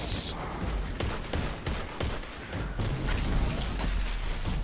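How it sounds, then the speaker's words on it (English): Dense bursts of gunfire in the shooter video game Destiny 2, set in the Infinite Forest, rattling in rapid volleys under a player's talk. "why is everyone shooting at me?"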